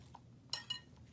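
Bath bomb ingredients are whisked in a bowl by a gloved hand, giving two quick, faint metallic clinks close together against a quiet background.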